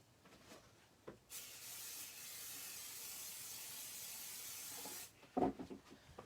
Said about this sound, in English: I'm just going to pixie spray it one more time